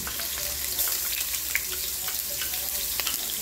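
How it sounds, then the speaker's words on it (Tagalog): Ginger and onion sautéing in a hot pan, a steady close sizzle with scattered crackles and pops and faint stirring scrapes, no talking. "Next, igisa natin ang ating ginger, onion"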